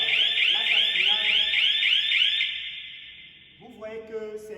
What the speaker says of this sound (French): Vous voyez que c'est l'alarme température qui a signalé.